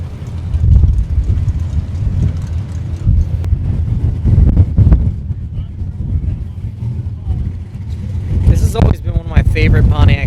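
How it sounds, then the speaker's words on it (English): Old Corvettes and other classic cars at an autumn seaside cruise event give off a steady, loud rumble of engines and exhaust, with wind buffeting the microphone and voices mixed in throughout. "All kinds of good sounds, exhaust notes, engine sounds."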